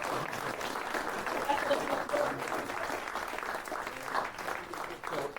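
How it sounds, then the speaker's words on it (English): Audience at a community gathering on crime and safety claps steadily and fairly loudly for several seconds, a dense continuous applause with a faint crowd murmur beneath. "can we have a round of applause for?"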